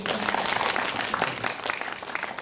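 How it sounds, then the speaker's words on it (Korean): Audience applause for an actor at a special guest-visit screening event at a Megabox cinema in COEX, a dense steady clapping from a seated crowd that holds throughout, with no voices over it. "배우님께도 박수 한번 부탁드립니다."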